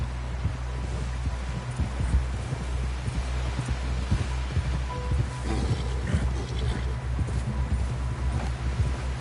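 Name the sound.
horse hooves clip-clopping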